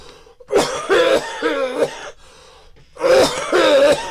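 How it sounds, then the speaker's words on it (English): A smoker clears their throat and coughs in two rough, phlegmy bursts separated by a short pause, close and loud. "Sorry. Smoker's cough."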